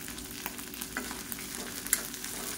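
Onions and red chillies, including dried Kashmiri chillies, sauté in a pan with a steady low sizzle and occasional scraping stir clicks close by, no talk.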